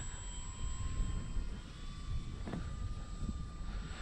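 A Dynam Waco RC model biplane flies by slow and steady, its small propeller motor giving a continuous buzzing drone with a steady high whine over low wind rumble, fairly distant and without talk.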